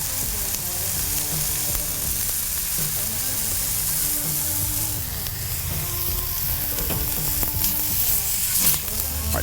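Cheesesteak meat sizzles steadily on a hot plancha griddle, a loud continuous frying hiss with occasional scraping and stirring clicks up close, and no one talking over it.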